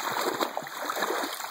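Four-month-old female Cane Corso puppy on her first time in the water, with continuous close splashing and sloshing and scattered splatters over steady rushing water, without a break throughout.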